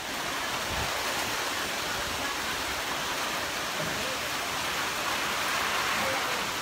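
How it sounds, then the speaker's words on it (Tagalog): Floodwater rushes through the streets of Tandag City, Surigao del Sur during Typhoon Auring, a steady, loud broadband roar that holds without a break throughout. "Dali na mo dako ang tubig."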